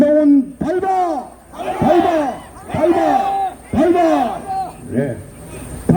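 A large crowd at a political rally in Uljin, South Korea, protesting a presidential impeachment, shouts a rhythmic chant in unison, with repeated loud bursts of voices rising and falling in a steady cadence.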